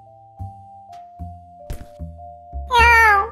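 A cat out on the frozen Han River: a few soft thumps and knocks over a faint steady hum, then a single clear, drawn-out meow near the end.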